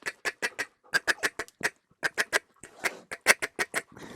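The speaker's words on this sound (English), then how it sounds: "there's a feeding chuckle, and it sounds like this." A rapid, rhythmic feeding chuckle from a duck call, a busy chattering run of short clipped quacks that keeps going with brief pauses.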